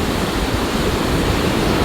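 Storm-driven ocean waves breaking near Pebbly Beach at Forster, New South Wales, producing a loud continuous roar of surf and spray with no pauses.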